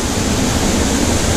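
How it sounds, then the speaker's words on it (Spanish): A waterfall roars nearby in a continuous, dense, hissing rush of falling water, loud and steady with no other sounds. "Estamos aquí en la cascada, como se puede ver."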